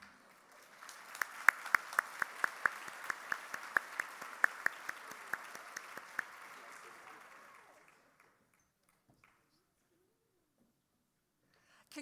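Conference audience applauding award winners: a sustained wash of clapping with sharp individual claps for about eight seconds, fading out to near silence at the end.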